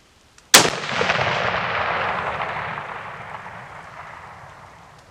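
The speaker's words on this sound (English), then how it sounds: "Let's fire one more and go check the group." A single loud .300 Win Mag rifle shot fired at a long-range 700-yard reload test, a sharp crack followed by a long rolling echo that fades across the open range.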